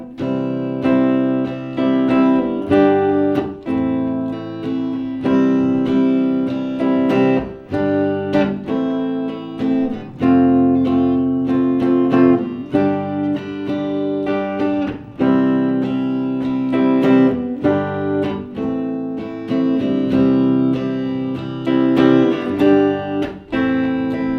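Strummed guitar chords play in a steady rhythm, changing every few seconds through a repeating progression, loud and close with no voices.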